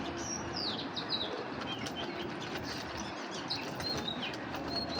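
Giribaz pigeons flap their wings amid steady outdoor noise, with a soft fluttering texture and scattered faint chirps running through the whole stretch.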